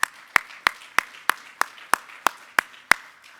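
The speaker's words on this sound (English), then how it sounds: "let's give Sheriff Oaks, who has done this for a long time, a round of applause" At a sheriffs' conference session, sparse hands clap in a steady, evenly spaced beat, each clap crisp and distinct rather than a dense roar of applause.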